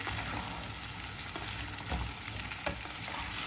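Pumpkin pieces sizzle in a hot pot while a utensil scrapes and stirs through them, close up and steady.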